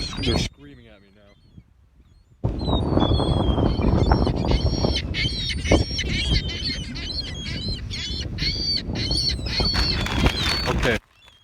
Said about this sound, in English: There are seagulls everywhere.